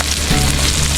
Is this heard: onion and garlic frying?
yes